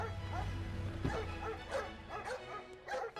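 A tied-up dog at a house barks and yips in short bursts, several sharp barks with whimpering, fairly close, mixed with people talking in the background.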